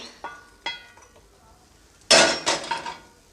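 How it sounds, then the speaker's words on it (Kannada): Roasted peanuts are tipped into a mixer jar in a home kitchen: two light clinks, then a close, bright rattling clatter of nuts hitting the jar for about a second before it dies away. "ಈ ಶೇಂಗಾ ಬೀಜನ ನಾನಿಲ್ಲಿ ಒಂದು ಮಿಕ್ಸಿ ಜಾರನ್ನು ತೊಗೊಂಡ್ಬಿಟ್ಟು ಆ ಜಾರೊಳಗಡೆ ಹಾಕ್ಕೊಳ್ತಾ ಇದ್ದೀನಿ"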